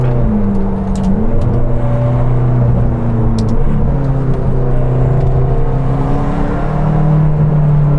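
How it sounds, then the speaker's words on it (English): Turbochargers spool on a 707 hp McLaren GT supercar during a drive, a loud, rising whistle and whir over a constant engine rumble, heard from inside the car. "How these turbos spool."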